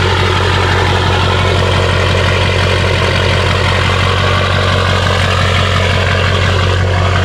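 A 6.0 Powerstroke diesel truck engine with a built motor and big turbo runs rowdy, a steady, loud, close rumble with a throbbing low pulse and no pauses throughout.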